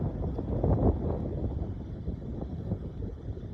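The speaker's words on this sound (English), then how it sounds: "As I said, it is quite windy." Low, rumbling wind buffets the microphone steadily outdoors on a short golf course at Barnbougle, loudest early on, with a faint hum underneath.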